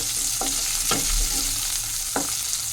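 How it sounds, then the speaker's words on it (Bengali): Chopped onion stirred and sautéed in a hot pan with minced garlic, giving a steady sizzle broken by a few sharp scraping strokes of the spoon, close and alone. "প্রথমে দিয়ে দিচ্ছি পেঁয়াজ পেঁয়াজটাকে একটু হালকা নাড়াচাড়া করে"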